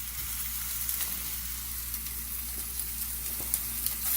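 Italian sausage browns in a pan with a steady broadband sizzle and faint crackles, moderately close and constant with no talking.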